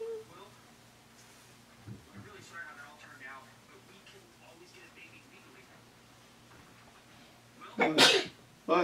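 Quiet talking gives way to a single sharp, loud sneeze near the end, close to the microphone.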